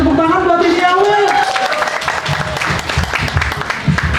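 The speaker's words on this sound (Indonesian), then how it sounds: "tepuk tangan buat Denny Awe" Applause for a contestant at a comedy competition final rises over the first seconds as a voice speaks, then continues as dense clapping from a crowd, fairly loud throughout.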